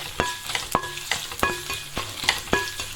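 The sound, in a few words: stirring onion and dried red chillies frying in a pan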